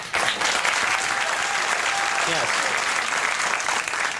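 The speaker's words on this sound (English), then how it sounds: "I think that is worthy of applause" Late-night talk show studio audience breaks into sustained, loud applause for a composer guest, the dense clapping holding steady throughout with a faint voice underneath.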